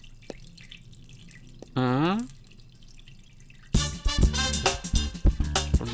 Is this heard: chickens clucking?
no